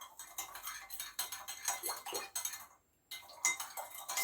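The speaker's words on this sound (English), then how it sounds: "So I'll just stir that" A metal spoon stirring a puff-puff batter mixture in a bowl, with quick clinks and scrapes against the side in an uneven rhythm, a brief pause, then more stirring.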